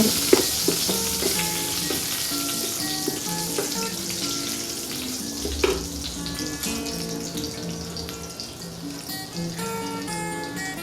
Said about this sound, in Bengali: সমস্তটা একটু নাড়াচাড়া করে ভাজা ভাজা করে নেবো